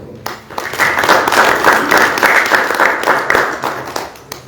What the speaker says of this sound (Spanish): Aplauso para Paul.